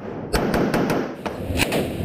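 Gunfire crackles during the 2017 Marawi siege, a quick run of about seven or eight sharp shots fired at uneven intervals over a low battlefield rumble.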